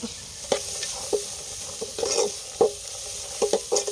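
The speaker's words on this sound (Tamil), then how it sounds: "கேரட்டு பீன்ஸு அப்புறம் முருங்கைக்கீரை அந்த எண்ணெயில் கொஞ்சம் நேரம் வதக்கி விட்டுப்போம்" Carrots, beans and drumstick leaves sautéing in oil in a village kitchen, a soft sizzle broken by repeated scraping stirs of a spatula at an uneven rhythm, up close.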